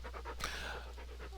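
Rhythmic dog panting from Farming Simulator 19 runs steadily throughout, close and clear, with quick even breaths over a low background hum.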